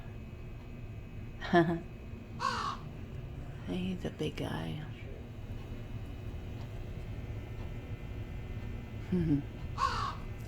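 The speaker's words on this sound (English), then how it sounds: "Wow, that is one big crow, and he says hi. He lights up with hi. That looks plastic." A large plastic toy crow in an antique shop caws in short electronic bursts, a pair near the start and another pair at the end. People talk nearby in between.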